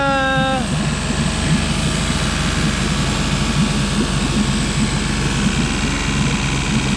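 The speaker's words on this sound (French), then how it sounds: "Il fait comme s'il s'engorgeait quand je mets gaz complet." A Mercury 40 hp outboard engine held at full throttle, choking as if flooding, gives a loud, steady, close drone that runs unbroken, with a brief tonal whine at the very start.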